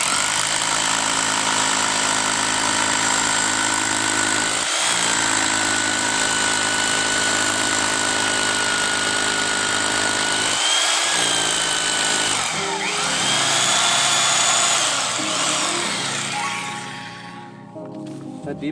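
A Harbor Freight hammer drill grinds loudly and continuously, with brief pauses and changes in pitch as it bores for a cabin foundation, ending as it winds down.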